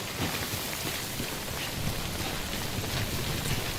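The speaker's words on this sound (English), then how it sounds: "This ain't ideal, the rain falling on us." Rain falling steadily outdoors on people and surfaces nearby, a constant broadband hiss with scattered small taps, moderately loud and without talk.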